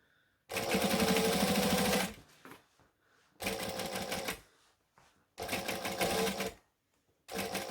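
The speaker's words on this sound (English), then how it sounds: "I'm just stitching about 1/4 inch from the edge" A sewing machine runs in three long bursts and one short final burst, stitching an ironing board cover about a quarter inch from the edge, loud and close with brief pauses between runs.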